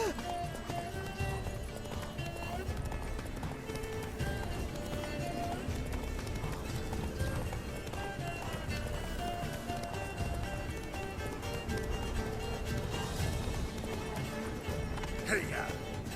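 Geralt's horse Roach gallops in The Witcher 3: Wild Hunt, a steady run of hoofbeats carrying through a busy game mix of music and ambience, with voices talking over it.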